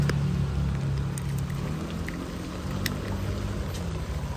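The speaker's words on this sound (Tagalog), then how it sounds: "lumalakas ang ulan" Rain patters down outdoors with a steady wash of drops and a low rumbling undertone, a few sharper splashes standing out as the shower keeps going.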